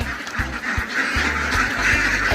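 A crowd of ducks at an egg-laying duck farm quacks noisily and continuously at feeding time, many birds close by calling over one another in a loud, overlapping chorus.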